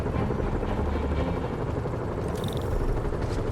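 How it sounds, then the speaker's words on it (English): A helicopter in the 2018 video game Marvel's Spider-Man gives off a continuous close rotor drone with rhythmic thudding, heard alone without speech. "Bet I can use those helicopters to swing."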